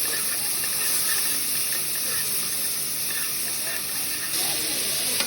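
Onions sauté in hot oil with ginger garlic paste while cooking dhal kichadi, giving a steady, even sizzling hiss close to the pan that continues without a break.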